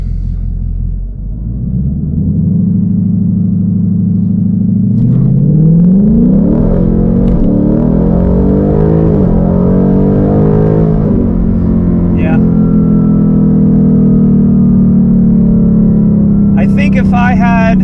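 A car with factory tires on a chilly afternoon accelerates hard in a 0-60 run, its engine rumbling and rising in pitch through gear changes, loud and close from inside the cabin, with some talk mixed in.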